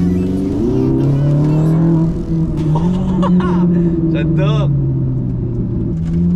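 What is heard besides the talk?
Ferrari 458 Italia V8 engine revving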